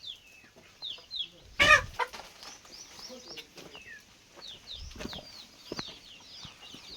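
Desi country chickens on a village poultry farm cluck and chirp repeatedly in the near field, with a brief louder burst of flapping and squawking early on and scattered clucks continuing throughout.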